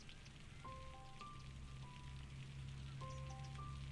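Steady rain patter in the city-building game Cities: Skylines, a constant soft hiss under quiet game music with a few tonal chime notes, no talking.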